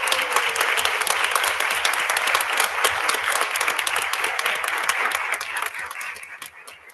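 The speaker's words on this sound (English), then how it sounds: "that we can give them a round of applause." Applause rises for a youth council of young women leaders standing at a city council meeting, a dense sustained round of clapping from the chamber audience that tapers off near the end.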